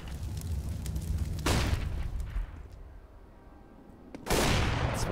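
A Counter-Strike match on de_train between pro teams brings loud bursts of gunfire and booms. Two sharp blasts stand out, with quieter crackling shots in between.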